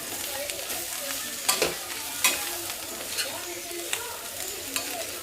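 A spoon stirs bitter gourd tamarind curry with chili powder in a hot pan, the steady sizzle broken by several sharp scraping clinks against the metal, close and fairly loud.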